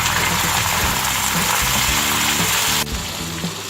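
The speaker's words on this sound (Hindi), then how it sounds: "अब मैं इसमें भिंडी डाल के फ्राई करूँगी" Okra (bhindi) sizzles loudly in hot oil in a home kitchen pan while cooking bhindi gosht, a steady dense frying hiss that drops slightly in level near the end.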